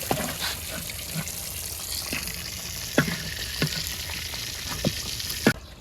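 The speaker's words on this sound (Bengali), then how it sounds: "এটা মরিচ ফেললে নিম ওই তেলে" Chili is dropped into hot oil after frying tomatoes in a village kitchen, giving a continuous crackling sizzle broken by several sharp spits and pops.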